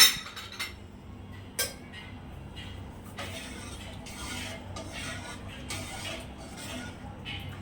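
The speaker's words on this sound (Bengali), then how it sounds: "3 কাপ পরিমাণ দুধ দিয়ে আরেকটু ভালোভাবে নাড়িয়ে নেব" Milk being stirred in a cooking pot, with a few sharp metallic clinks of a spoon against the pot over a low steady background, fairly quiet and close.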